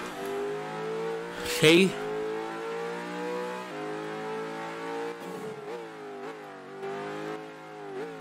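A Corvette C8 supercar engine in a video game hums steadily at mid pitch, with a sharp rev burst near the start and a few more revs and shifts later, while a person speaks briefly.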